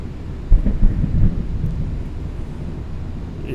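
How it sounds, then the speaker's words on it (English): Thunder from a storm rumbling outside a house, a deep rolling boom swelling near the start then fading into a low sustained grumble with faint rain. "If you heard that, that is thunder and lightning here at my house."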